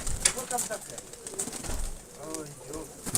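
Pigeons in a backyard loft coo softly in low, rolling phrases, with a few wing flutters and people talking nearby throughout.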